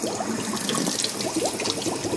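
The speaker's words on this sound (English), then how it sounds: "Then I'm going to turn the water on." Tap water runs from a household sink into plastic tubing, a steady close rushing hiss with a faint gurgle, continuous and alone.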